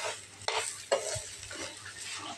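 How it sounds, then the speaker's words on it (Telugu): Grated coconut roasting in a pan, stirred with a spatula: scraping sweeps and soft sizzling, with a few sharper clicks of utensil against metal, close and without talk. "కొబ్బరి అయితే చక్కగా వేపుకోవాలన్నమాట ఎర్రగా"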